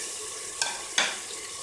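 Chicken frying in a hot pan for haleem gives a soft, steady sizzle, broken by two brief scraping stirs of a utensil. No speech.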